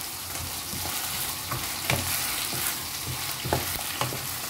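Chicharon pork rinds frying in a covered pan, a dense, continuous sizzle of hot oil with scattered sharp pops and crackles, close and steady, with no talk.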